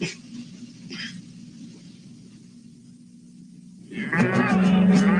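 Cattle lowing in open ranch country, a long mournful moo under a low rumble, then a louder, higher bellow near the end, fairly close and with no talk over it.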